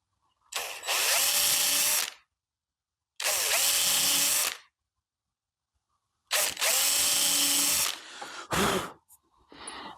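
A power drill whirs loudly into door wood at a hinge in three bursts separated by silences, the last burst running longer and ending with short stuttering pulses.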